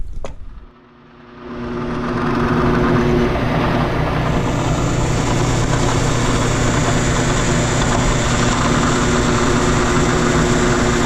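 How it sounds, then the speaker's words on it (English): A 3/8 inch Forstner bit drills about a quarter inch into Corian; after a brief click the motor spins up and holds a loud, steady, droning whir to the end. "3/8 inch Forstner here, and I'll just go in about 1/4 of an inch or so."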